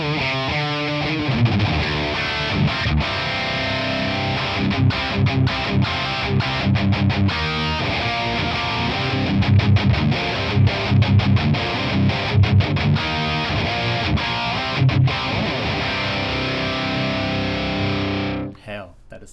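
Distorted, high-gain electric guitar played through a ToneX ONE amp capture on a tighter gain channel with reverb switched off, dense chugging riffs with sharp stops, loud and close, ending with a brief cutoff.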